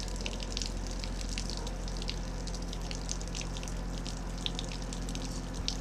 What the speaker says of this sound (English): Oh, we're getting hot water, or warm water.